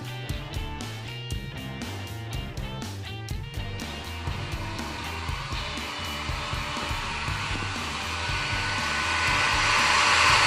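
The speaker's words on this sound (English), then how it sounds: "I'm drying that hiker laundry." A clothes dryer tumbling hiker laundry, heard as a loud steady mechanical whir with rhythmic thumping early on, the hiss growing brighter and stronger toward the end.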